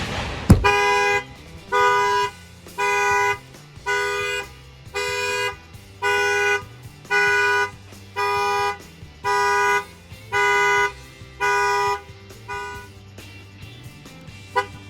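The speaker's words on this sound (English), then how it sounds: "The alarm will fire off right now." A Ford Transit 350 van's Excalibur alarm blares in a steady repeating pattern, about a dozen loud on-off tone bursts at a regular rhythm, close by with no talking.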